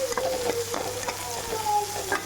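A large onion sautéing and being stirred in a pan, with a steady sizzle and scraping strokes of a spoon or spatula repeating throughout at close range.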